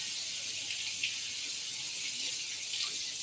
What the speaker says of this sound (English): All right, we're rinsing the grapes.